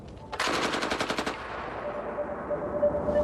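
A machine gun mounted on an armed combat robot fires one rapid burst of about a dozen rounds, loud and close, then stops and leaves a faint ringing hum.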